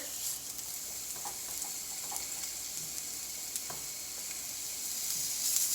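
Venison strips cooking on a hot griddle for Philly cheesesteak flatbreads make a soft, continuous sizzle with scattered small pops and crackles that swell slightly toward the end, heard alone without talk.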